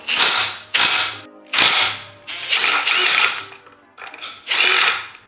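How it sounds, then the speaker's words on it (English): A Snap-on breaker bar ratchets on motorcycle engine bolts from a CBR/Rebel 300 or 250 engine, giving about six sharp, close bursts of rapid metallic clicking with short pauses between. "We got our handy dandy snap-on old school breaker bar slash torque wrench."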